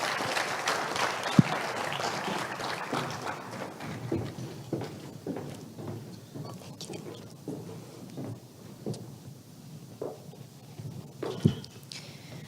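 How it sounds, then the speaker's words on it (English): An audience at a TEDx event gives a round of applause, a dense, fairly soft patter of many hands that slowly thins and fades, with a couple of sharp knocks. "please give Dr. Jung a wonderful round of applause"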